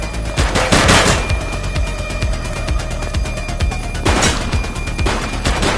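Rapid automatic gunfire from a police shooter video game, with dense bursts of shots rattling continuously and a heavier flurry near the start and again toward the end, loud and close throughout.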